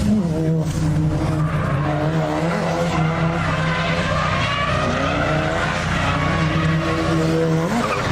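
A car drifts on a street in Kyushu, Japan, tires squealing loudly and continuously under a roaring engine, heard up close from inside the car with heavy wind noise through open windows.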